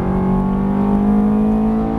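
Ferrari F430 on a track under full throttle, its engine a loud, steady, close drone for the whole stretch, without talk.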